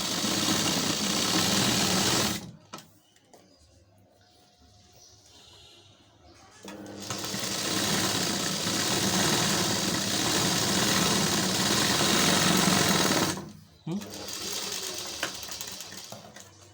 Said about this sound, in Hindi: अब हमने जो सिलाई मारा था उस पर दाब का सिलाई मार देंगे।